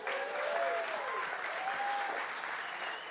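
A comedy club audience applauds with steady, sustained clapping that fills the room, mixed with scattered whistles and cheers.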